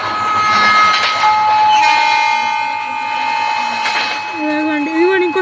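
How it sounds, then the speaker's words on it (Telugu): A passing train in an Indian train video game rumbles loudly with steady rail noise, long sustained horn tones and a rising whistle near the end, all under a voice talking over it. "పక్క ట్రైన్ వస్తుందండి"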